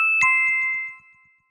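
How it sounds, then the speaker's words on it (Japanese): A table call button in a Japanese restaurant gives a bright two-tone electronic chime, one clear ding-dong that rings out and fades within about a second. "こちらはこれは ボタンかな、 ピンポンですね。"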